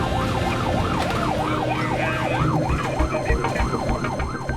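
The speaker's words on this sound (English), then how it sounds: "The sound of the approaching siren has scared off the bottle-throwing crowd." An emergency vehicle siren wails in a steady rising-and-falling pattern as it approaches a night-time street brawl scene with a crowd, loud and continuous with traffic rumble underneath.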